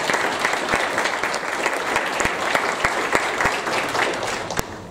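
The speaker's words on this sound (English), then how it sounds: "let's give one more round of applause to our panelists here" An audience at a justice system reform seminar applauds loudly and steadily, a dense wash of clapping with a few sharper claps standing out.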